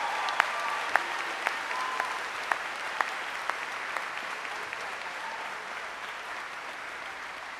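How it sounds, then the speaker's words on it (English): An audience at a high school commencement ceremony gives sustained applause for honor graduates, a steady dense wash of clapping with a few sharper claps standing out, fairly distant and without speech. "Let's give them a huge round of applause."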